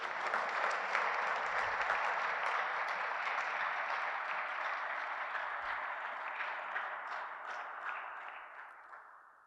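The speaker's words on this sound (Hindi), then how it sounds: "हम पिता परमेश्वर को ताली बजाते हुए पूरे दिल से धन्यवाद देंगे।" A church congregation at a convention Eucharist service claps together in sustained, dense applause that holds steady for several seconds before gradually fading toward the end.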